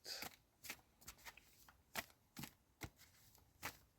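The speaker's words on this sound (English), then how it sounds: "So let's shuffle these up." Tarot cards shuffled by hand in short crisp riffling bursts, about eight quick flutters spaced unevenly, close and quiet with no talking.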